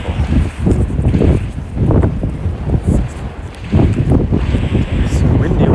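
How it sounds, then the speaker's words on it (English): Gusty outdoor wind buffets the microphone in loud, rumbling surges that rise and fall over several seconds, with a few brief voice-like sounds mixed in. "It's so windy."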